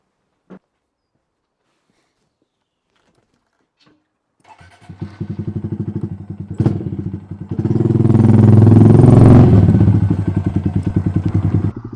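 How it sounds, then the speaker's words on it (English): A Honda Monkey motorcycle fitted with Brembo brakes is started after a few faint clicks, then idles with a loud, close, sputtering engine note that swells as it is revved. "Let's get out on the bike."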